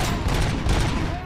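Pistol gunfire in the RoboCop Rogue City shooter game, a dense rattle of rapid shots with a constant loud, busy background.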